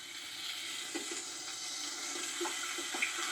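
Water runs steadily into a glass jar that held baby Roma tomato passata, a continuous faucet-like rush with a few small splashy knocks, fairly quiet and close with no voices.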